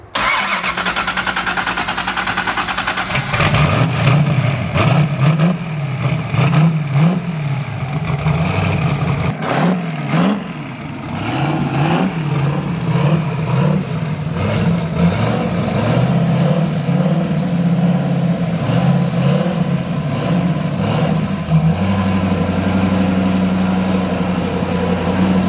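Turbocharged car engine during a launch: the engine cranks and fires, then revs repeatedly in loud rising and falling surges before settling into a rough, steady, close idle.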